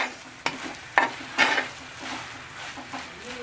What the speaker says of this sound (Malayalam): അപ്പൊ നന്നായിട്ട് ഇളക്കി കൊടുത്തു.